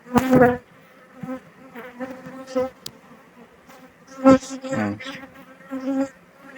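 Honey bees swarming at an apiary, with a suspected unmated queen. A buzzing drone of insects runs throughout at moderate loudness, interrupted by several louder close bursts and short rustling handling sounds.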